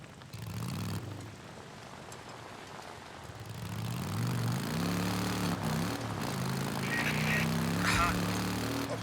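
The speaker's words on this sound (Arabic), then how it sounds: "في هليكوبتر تبعنا جايه ناحيتك دلوقتي، لازم تتابعها" A helicopter approaches in the video game Days Gone: a steady, rising rotor and engine drone that grows louder over several seconds, layered with other game ambience.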